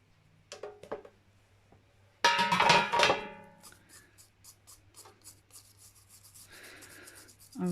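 Sticky material is rubbed off model shrubbery for a crafting project, with a loud burst of scratchy rubbing followed by a run of quieter short scrapes and faint handling sounds.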